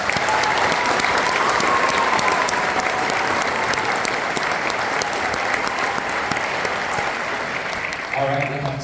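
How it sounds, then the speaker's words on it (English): Audience at a middle school sixth grade band spring concert gives sustained, loud applause with some crowd murmur, tapering slightly before a few band notes sound at the end. "So let's give them a round of applause."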